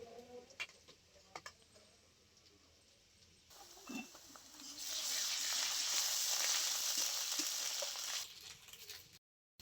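Onion and garlic frying in a pan with ginger paste added, a broad hiss that swells into loud steady sizzling midway, with scattered clinks of a spatula stirring; no talking.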